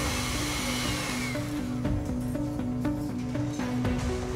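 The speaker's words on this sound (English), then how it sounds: "We'll whisk the egg whites, OK?" Egg whites for a souffle are whisked with a steady, loud motor whir that holds a constant droning pitch for several seconds, with no voices.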